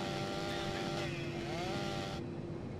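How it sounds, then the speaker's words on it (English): A chainsaw running in the video game GTA San Andreas, a continuous buzzing engine drone that holds steady and revs slightly, with no talking. "Give me that chainsaw."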